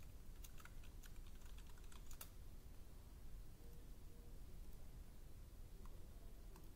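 Fingers type on a computer keyboard in a steady, fast run of soft clicks and taps. The sound is close but faint, over a hiss of background noise, with no voices.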